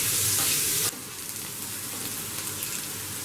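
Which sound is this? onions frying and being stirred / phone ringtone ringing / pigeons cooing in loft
onions frying and being stirred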